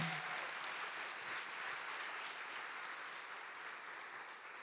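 A church congregation claps loudly for several seconds, a dense continuous wash of many hands that fades slightly at the end, with no speech over it.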